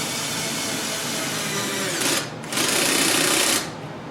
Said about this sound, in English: It kind of acts like a hammer drill,